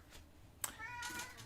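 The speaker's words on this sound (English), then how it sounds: "And that was my cat." A house cat lets out a short, faint meow with a rising, tonal cry about halfway through, heard alone and fairly quiet.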